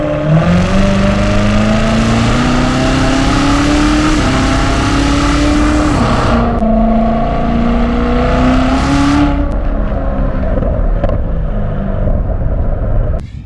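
A 2019 C7 Corvette Z06 engine starts and revs hard in sport mode, a loud, close, continuous roar that climbs in pitch, dips around the middle and surges again before easing off at the end, with no talking.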